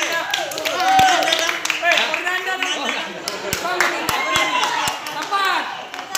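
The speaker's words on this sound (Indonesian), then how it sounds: "Tepuk tangan." Hands clap together steadily at a child's twelfth birthday party, the claps mixed with cheerful voices and chatter from the gathered family and friends.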